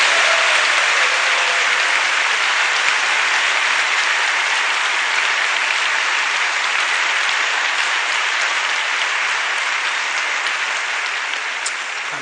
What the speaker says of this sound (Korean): 박수를 한번 뜨겁게 다시 환영합니다.